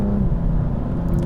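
A BMW M235i engine and exhaust give a steady, close, low droning rumble that holds evenly throughout, with no voices.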